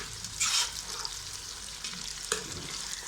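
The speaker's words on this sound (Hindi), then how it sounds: "कलर देने के लिए ना इसको प्याज में फ्राई किया जाता है" Chicken fries in onions while a turnip-and-meat curry is being cooked, giving a steady close sizzle with a couple of sharper stirring scrapes and no talk.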